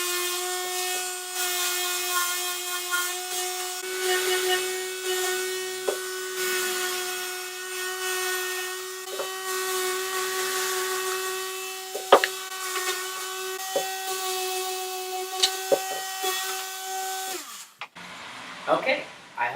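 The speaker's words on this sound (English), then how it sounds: "now I'm just going to give it a light sanding and do another coat" A wooden doll bed is lightly sanded by hand, with soft rhythmic rubbing strokes and a few sharp knocks over a steady tonal hum, ending in a brief louder clatter.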